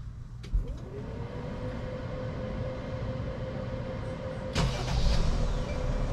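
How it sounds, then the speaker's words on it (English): A van engine is started remotely from outside: a brief start-up rises into a steady idle hum, with a louder burst of noise near the end. "Then you can just remote start it from outside."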